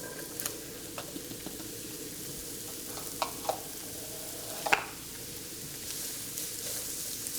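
Minced garlic and small diced onion fry in oil in a pan, a soft steady sizzle under scattered utensil taps and scrapes, with one sharper clack midway, fairly quiet and with no speech.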